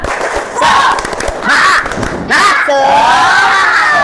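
A class performs a rhythmic tepuk semangat spirit clap, bursts of group clapping alternating with chanted voices in short loud phrases, ending with a sustained shout.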